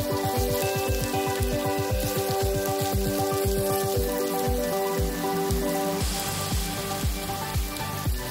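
Radish and mixed vegetables sizzle steadily in a pan over a low flame, a close, continuous crackling hiss with soft rhythmic ticks throughout.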